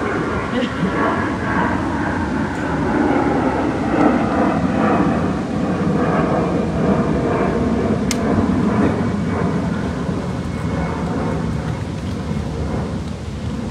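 Several airplanes pass overhead at an outdoor birthday celebration at the FDR Memorial in Washington, D.C., a loud, steady jet roar that swells and lingers throughout, with no voices over it.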